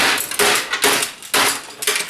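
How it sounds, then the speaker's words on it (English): Heavy hammer blows breaking the hinges off a scrap item, three or four loud, sharp metallic strikes spaced about half a second apart, close up, each ringing briefly before the next. "I'm going to take a hammer to it. Break the hinges."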